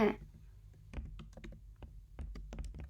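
Someone types on a computer keyboard, making a quick irregular run of close, soft key clicks and taps with short pauses between bursts. Nothing else competes.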